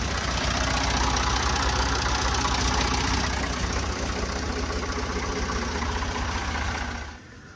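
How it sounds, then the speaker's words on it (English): A Lincoln Power MIG 140 welder lays a bead on a steel grapple bucket, a steady dense crackling buzz sustained close up for several seconds before it stops abruptly near the end. "So we're using the old Power MIG 140 Lincoln."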